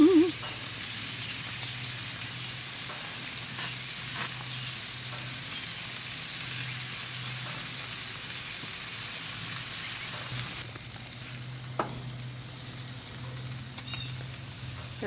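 Burgers sizzle and fry on a grill in a steady, crackling hiss throughout, loud and close, easing slightly toward the end, with no speech.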